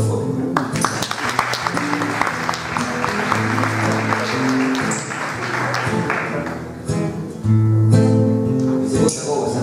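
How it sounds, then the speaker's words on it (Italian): Theatre audience applauding at an Italian stage show, dense clapping running throughout at steady loudness, with music tones and a voice heard over it. "Quindi un applauso al fuoco."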